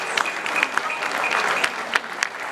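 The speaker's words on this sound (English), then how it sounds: "Let's clap for ourselves." Crowd applause at the Ghana Football Association elections: a short burst of brisk, fairly close clapping with sharp individual claps standing out, a voice faintly underneath.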